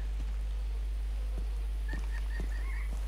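Cassowary birds in Far Cry 3 give a few short gobbling, honking calls in a quick run, faint under a steady low hum, with scattered soft clicks and no talking.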